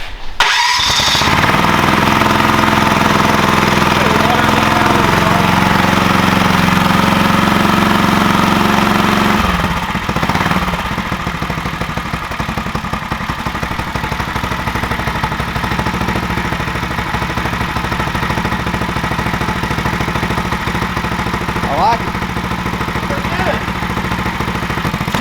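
A stage 3 440cc big block engine fitted with reverse runs on a go kart, roaring loudly and steadily for several seconds, then dropping to a rougher, lower idle.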